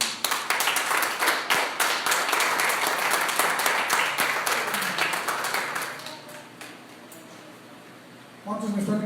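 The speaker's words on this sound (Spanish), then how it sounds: "Un aplauso al Señor." A church congregation gives a loud burst of applause to the Lord. The dense clapping holds for several seconds, then thins and fades, and a voice begins speaking near the end.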